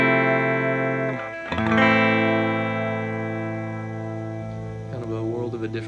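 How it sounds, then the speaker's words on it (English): Telecaster electric guitar on its bridge single-coil pickup through an amp, sounding a chord that is struck again and left to ring for several seconds with a slow fade, loud and bright, ending in a few softer notes. "I'll be using the bridge pickup just so we're comparing single coils to single coils."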